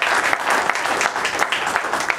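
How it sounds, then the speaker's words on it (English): Applause fills a campaign meeting for Obama, a steady wash of many hands clapping from a sizable crowd, loud and continuous without any talk. "Thanks for the applause, but this is an Obama meeting"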